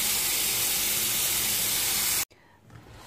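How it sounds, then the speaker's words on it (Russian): Water runs hard from a tap over eggplants in a loud steady rush for about two seconds, then cuts off abruptly, leaving quiet with faint rustling. "Очень хорошо промываем баклажаны в проточной воде."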